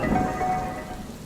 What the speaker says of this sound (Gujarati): અને વરસાદ પણ ખૂબ વરસે છે.